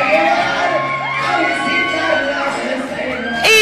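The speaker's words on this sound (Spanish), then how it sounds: "toda la gente que estamos esperándolos, pues obviamente les vamos a gritar" Wedding guests cheering and shouting for a couple kissing, a loud crowd of overlapping whoops and yells with rising calls, swelling to a sharp burst at the end.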